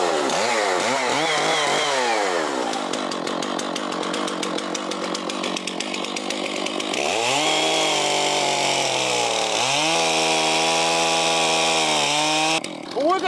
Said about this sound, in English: Now all I gotta do is fire this thing up, take the chain guard off. This is a big saw.